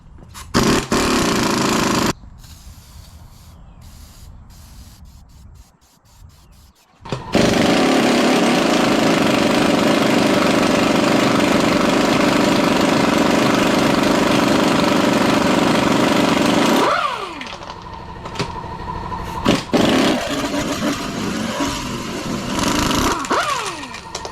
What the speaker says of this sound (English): Can't keep up the air volume, so I just fire up the other compressor.